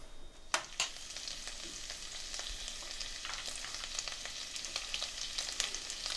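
Onions fry in a little butter in a pan on medium heat, giving a close, steady crackling sizzle with a couple of sharp pops and stirring scrapes at the start, no voices.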